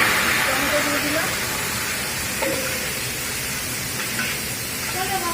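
Tomatoes dropped into hot oil spiced with mustard seeds give a steady broadband sizzle and hiss that runs throughout, with light clinks and a few faint background tones.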